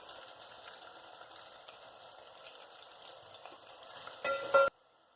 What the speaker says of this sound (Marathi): आता त्यात मी हा उभा चिरलेला कांदा घालून घेते आणि त्याला थोडंसं लालसर रंगावर वर खाली करून घेते